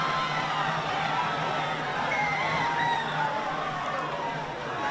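Spectators at a school rugby league match at Browne Park in Rockhampton make a constant murmur of crowd chatter and general hubbub, with scattered voices rising out of the steady babble.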